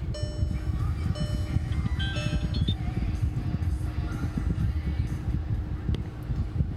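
A 2013 VW Jetta TDI diesel engine idles after starting, giving a steady low rumbling clatter, with faint electronic chime tones early on.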